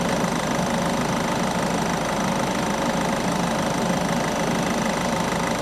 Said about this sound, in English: Pump's still on.